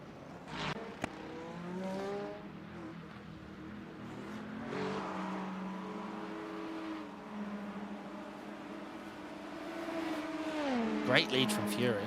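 Race cars lapping the Monza circuit during an endurance race, their engines droning and shifting pitch as they rev and pass, with a louder burst near the end, under continuous commentary.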